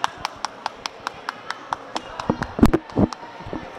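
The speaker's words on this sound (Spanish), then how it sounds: "Aguántame que te aplauda de verdad" A single person claps slowly and evenly about a dozen times, close by, then the claps grow irregular as a voice speaks over them.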